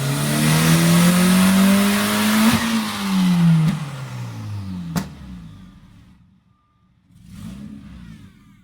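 A Toyota MR2 with a 5SGTE engine revving hard on a dyno run, freshly gapped new spark plugs fitted, climbing in a loud sustained rising note. It drops off after about five seconds, falls nearly silent, then comes back as a softer rumble.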